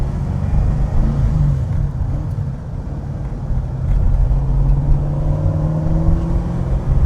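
A deep, steady V8 engine rumble from a warming-up Aston Martin V8 Vantage idles close by, with a low throaty drone that rises slightly partway through and holds.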